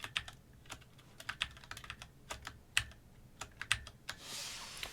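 Typing on a computer keyboard, a quick irregular run of sharp, close key clicks with brief pauses, a softer rustle near the end, no talking.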